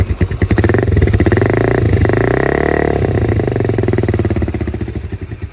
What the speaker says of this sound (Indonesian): suara dari knalpot Orion CBR Karbu teman-teman.